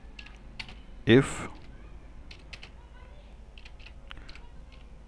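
Keystrokes on a computer keyboard while coding a grid and text box program, sparse soft clicks scattered across the clip with one louder burst, faint room noise, a brief spoken word.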